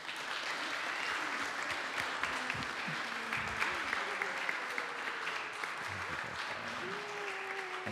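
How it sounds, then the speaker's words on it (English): A church congregation applauds during a Sunday worship service with a baptism, steady sustained clapping filling the sanctuary at moderate distance with faint voices underneath. "with a round of applause."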